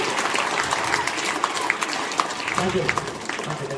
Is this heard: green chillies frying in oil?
no